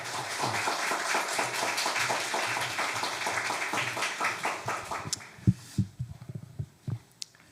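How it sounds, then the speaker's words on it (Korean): Church congregation applauding to welcome a missionary preacher at a Holy Week revival service, a dense steady clapping that thins into scattered, separate claps near the end. "우리 나오실 때 박수로 함께 맞이하도록 하겠습니다"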